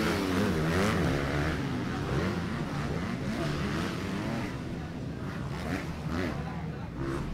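Racing motorcycles roar continuously at a motorcycle race with a Team Honda Philippines rider, a steady, dense engine drone with rising and falling revs throughout.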